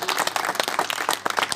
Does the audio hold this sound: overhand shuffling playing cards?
no